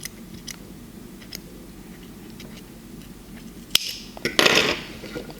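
Crochet yarn being snipped with scissors: a quiet room with faint small ticks, then a sharp click and a short, louder burst of snipping and handling noise near the end.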